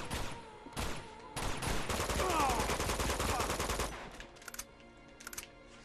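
Enemy and sniper gunfire in Uncharted 2: sharp separate shots, then a long rapid automatic burst, then more scattered shots near the end, loud and with no talk.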